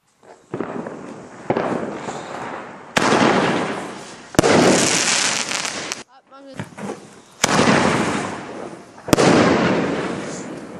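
Panda Feu Bombenrohr firework shells fire in quick succession outdoors, each sharp launch thump followed by a loud, long crackling burst and hiss, about six in all, with a brief voice heard in a short pause.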